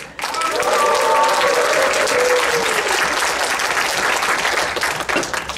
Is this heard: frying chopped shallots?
no